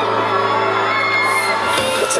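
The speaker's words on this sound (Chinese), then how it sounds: "尖叫声让我听一下好不" A concert crowd screams and cheers in a sustained mass of shrill whoops and shouts, loud and continuous, with a brief bang near the end.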